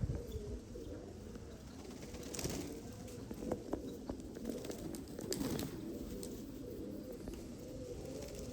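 Blue-barred pigeons coo steadily through the scene, a low soft murmur from several birds with occasional faint chirps and wing rustles in a noisy outdoor loft.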